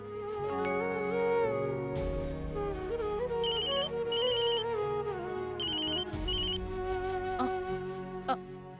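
A telephone ringtone plays as a bright electronic melody, looping over several seconds with repeated high chiming bursts, loud and close with no talking.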